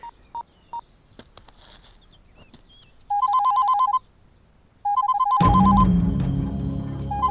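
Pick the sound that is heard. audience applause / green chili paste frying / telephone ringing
telephone ringing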